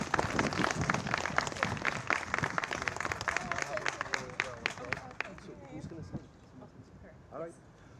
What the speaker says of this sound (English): So let's give them a round of applause at this time.